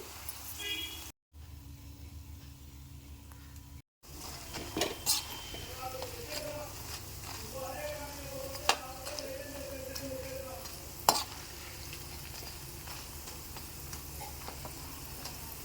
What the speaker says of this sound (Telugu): ఇలా పకోడీలాగా వేసుకోండి మధ్య మధ్యలో కలుపుకుంటూ ఉండి ఇలా వేగిన తర్వాత తీసేసుకోండి